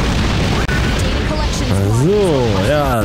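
A loud, rumbling explosion in the video game Godzilla 2 fills the clip with dense noise, followed by warbling, wavering synthetic tones.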